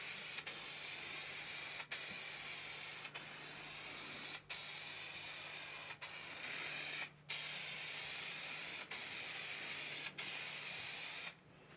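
Spray adhesive hissing from a can to glue carpet lining inside a van, a long steady spray broken by about eight short pauses at regular intervals, close and continuous.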